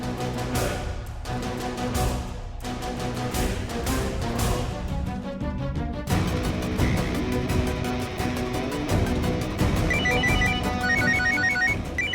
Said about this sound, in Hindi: बॉस का फोन